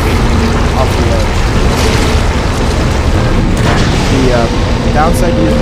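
Force gun blasts from the Dead Space 2 video game, heard as loud booming bursts inside a dense, constant roar of game noise, with faint sci-fi chirps and muffled voices.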